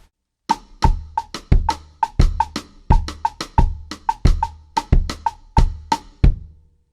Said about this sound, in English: The third phrase will start with my second stroke with the snare and the woodblock.